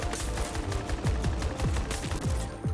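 Rapid blasts from a 12 auto shotgun in Battlefield 2042, a fast run of about ten loud, sharp shots in steady rhythm over busy game ambience.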